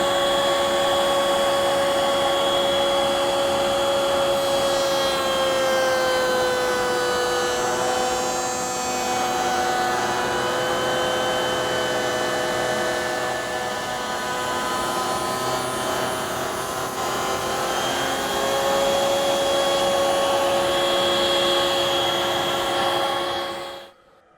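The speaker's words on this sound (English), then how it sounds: "I'll run a test cut and make certain I've got the setup correct." A router-style coping cutter making a test cut on a wooden cabinet door rail, a loud continuous high-pitched motor whine with a steady tone that wavers slightly as the bit cuts, then winds down abruptly at the end.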